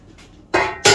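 A large basin pulled out from among dishes and pots in a home kitchen, two loud sharp clattering clanks about a third of a second apart, close and without talk.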